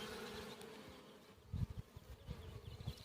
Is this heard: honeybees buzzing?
yes